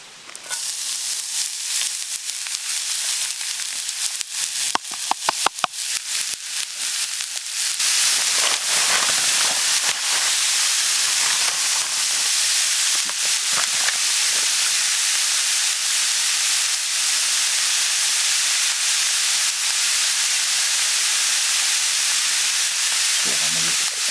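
Monjayaki batter stir-fried on a hot iron griddle at a winter campsite sizzles steadily and loudly at close range, with scraping clatters early on before a continuous hiss of frying takes over.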